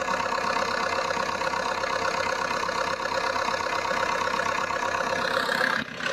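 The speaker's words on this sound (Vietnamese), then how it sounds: "Cái động cơ này nó có vấn đề rồi các bác." Faulty Komatsu PC50-2E mini excavator diesel engine idling nearby, with white smoke from the breather: a loud, steady, rough drone that runs throughout, with a brief dip near the end.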